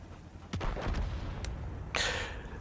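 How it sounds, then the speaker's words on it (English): Artillery shells firing in World of Tanks, heard as a few sharp booming blasts with a loud burst near the end, over steady battle rumble. "I know that artillery is going to fire at me again"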